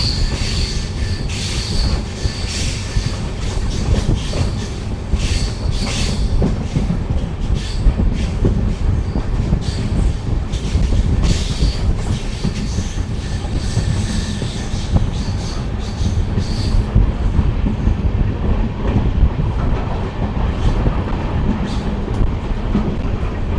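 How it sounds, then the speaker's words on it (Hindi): Onboard the Amritsar-Bikaner Super Fast Express rounding a curve, a loud continuous rumble of wheels on rails with rhythmic clatter and high wheel squeal throughout. "देखिए बहुत ही सुंदर कर्व लिया है हमारी ट्रेन ने"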